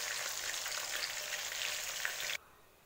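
Chicken koftas fry in oil over low heat with a steady, even sizzle that cuts off abruptly near the end.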